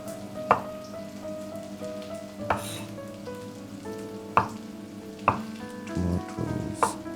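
Onions fry in a karahi with a low steady sizzle, interrupted by several sharp clanks of a utensil against the pan at irregular intervals.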